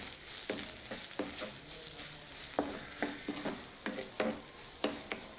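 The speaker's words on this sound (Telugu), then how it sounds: "ఒకసారి బాగా కలుపుకుందాం" Snake gourd pieces with turmeric, chilli powder and salt are stirred as they fry in a pan, giving a soft sizzle beneath repeated quick spatula scrapes and clinks, close and moderately quiet.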